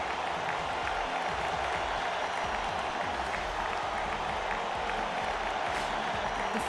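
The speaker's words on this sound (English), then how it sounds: "Then the clap to the beat eventually turned into thunderous applause." Applause sound effect from the video game Radiant Tale: a dense, steady wash of many hands clapping that holds at an even level from start to finish.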